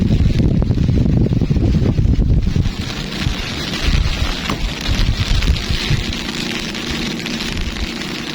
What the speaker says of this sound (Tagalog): Umuulan, umuulan.